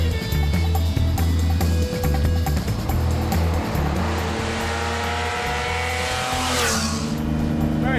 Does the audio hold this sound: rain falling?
no